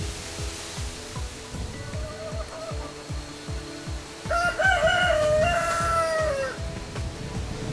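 A rooster crows once near a farm hen house, a loud rising and falling call that starts a few seconds in, over a steady background rush of water and a low rhythmic ticking.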